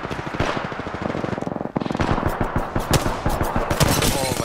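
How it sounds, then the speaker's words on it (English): Rapid automatic gunfire rattles in close, dense bursts in the battle-royale game Apex Legends, with one brief pause partway through before the shooting resumes. "I'm getting shot at"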